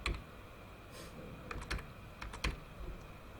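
Keys on a computer keyboard are tapped quietly in short irregular bursts as a date of birth is typed into an online visa application form, with a low background hum.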